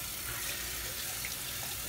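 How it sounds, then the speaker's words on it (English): Running tap water after a shave, a steady soft splashing stream into a sink, fairly quiet and close, no voices. "so now let me rinse off"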